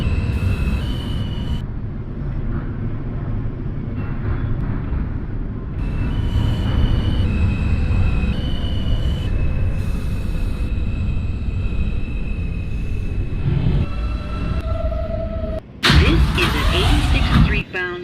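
An NYC Subway R160A train on the W local line, simulated in the OpenBVE train game, hums and rumbles steadily for most of the run before a sharper burst of noise near the end.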